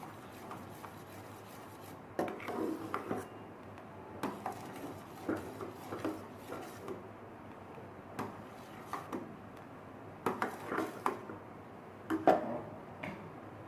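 Spoon stirring sugar into sawaiya (sweet vermicelli) in a metal pot, giving soft scraping and clinking strokes in an irregular rhythm, close and fairly quiet with no talk.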